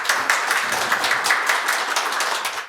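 Brief burst of audience applause at a bioenergy forum held in the National Assembly, dense steady clapping from a room of people.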